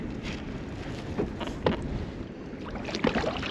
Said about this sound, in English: let's paddle away